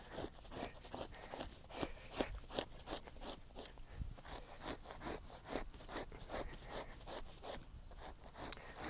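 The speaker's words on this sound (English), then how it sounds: "You can really lean into them and scrape." A deer hide being scraped hard by hand, giving a quick run of rhythmic rasping strokes, close but faint, repeating steadily with no voices.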